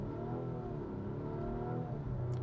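A 2022 Volvo S90 T8 Recharge plug-in hybrid sedan accelerates hard, its engine note rising steadily and loudly for a couple of seconds, close and continuous with no talking.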